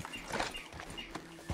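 Horse hooves clip-clop in Red Dead Redemption 2 as a rider urges the horse on, a few quick soft thuds in a loose rhythm with game ambience and a steady tone running underneath.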